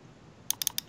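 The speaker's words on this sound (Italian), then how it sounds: "Tastiera." A short burst of about four sharp computer-keyboard keystrokes, crisp and close, clicking quickly after a quiet moment, with no voice.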